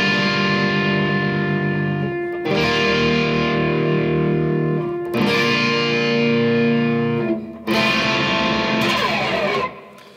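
Distorted electric guitar plays the intro line of a song, loud and alone in four sustained phrases with brief breaks between them and an effects-heavy, echoing tone.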